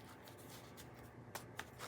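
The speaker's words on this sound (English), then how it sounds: "Sometimes I like to turn the deck like this and shuffle it this way." A tarot deck is shuffled close up with soft, quiet riffling and card rustle, then a few crisp snaps as the cards are turned and cut near the end.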